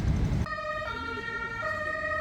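An ambulance siren on a Luxembourg street sounds loudly after a brief burst of traffic noise, holding steady tones that step between pitches as it passes close by.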